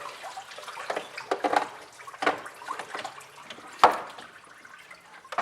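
Coolant spills and splashes while a thermostat is pulled from a 2004-2009 Mazda 3 2.3L engine, giving close irregular gurgling and trickling with a few sharper drips and splats, and no talking.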